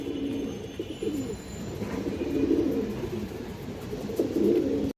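A pair of pigeons coos in continuous, rolling low murmurs, fairly close and steady throughout, with no talk.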